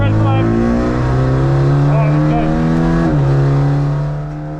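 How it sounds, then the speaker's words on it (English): BMW 330i G20 race car on the Nurburgring, its engine droning loudly at steady high revs with a shift and slight dip near the end, heard from inside the cabin. "So the car is the BMW 330i G20."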